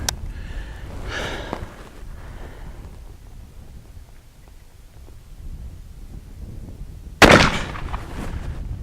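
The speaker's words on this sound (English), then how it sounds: "one more shot" A single sharp gunshot from a BFR revolver in .460 S&W Magnum cracks loudly near the end, after a stretch of quiet outdoor wind noise and faint breathing.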